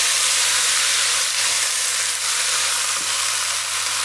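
Sauce for a fish stew sizzles and hisses loudly and steadily in a hot pan, a constant frying crackle with faint stirring scrapes underneath.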